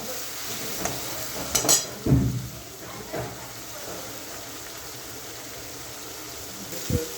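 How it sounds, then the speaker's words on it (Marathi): Chili-coriander thecha fries in a pan for an okra dish, a low steady sizzle with a few close scrapes and clinks of stirring early and near the end, and a voice speaking faintly at moments. "याला छान असं फ्राय करून घ्यायचं आपल्याला या ठेचाला"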